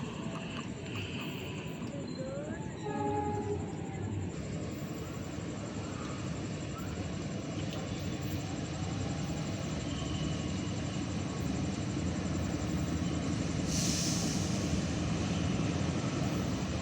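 The KA Sangkuriang train pulls into track 1 at Probolinggo station, its locomotive giving a loud, steady engine rumble throughout. A brief whine rises early on and a burst of hiss comes near the end.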